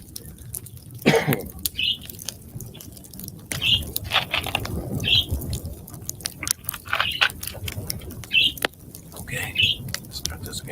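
A pet parakeet chirps in bursts of short, bright calls every second or two in a quiet room, accompanied by low rustling and an occasional cough.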